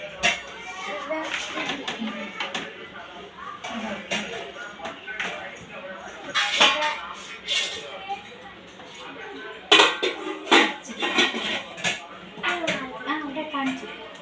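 Lidded metal and plastic containers clink and clatter repeatedly, with scattered sharp knocks as they are handled, under ongoing talk nearby.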